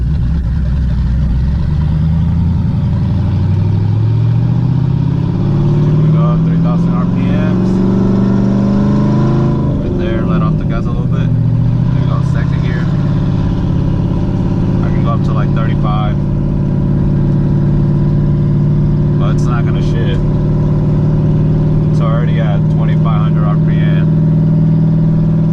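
Lifted Chevy Silverado with a 5.3L V8 and TSP 224R cam, driving with a loud, steady engine drone that rises and falls as it shifts and picks up speed, with a voice talking over it.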